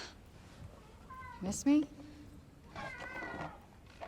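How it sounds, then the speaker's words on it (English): A photorealistic cat in the video game Forspoken meows a few times, close and clear, with a person talking over and between the meows. "Photorealistic cat."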